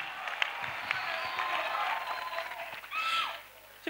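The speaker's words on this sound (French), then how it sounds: "Clap offering to Jesus." A church congregation claps in applause, a dense continuous patter of many hands that swells and then fades, with a voice rising briefly near the end.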